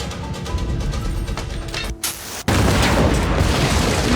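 A loud, sudden explosion from a Rurouni Kenshin film scene, where a villain blows himself up, bursting in after a brief drop in a dense noisy background and sustaining a heavy roar.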